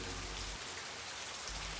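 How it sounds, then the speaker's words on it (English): Steady rain falls in a dense, unbroken hiss, like a drizzle that has turned into a downpour, with no other sounds over it. "They prayed for rain and rain came. Drizzling lightly at first and then how it poured."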